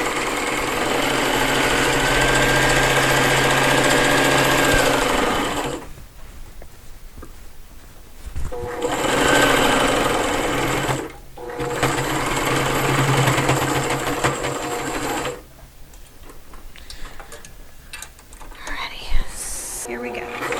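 A sewing machine runs in bursts while back stitching the last seam of a fabric lotus petal, its steady mechanical whir stopping and restarting a few times with brief quiet gaps between runs.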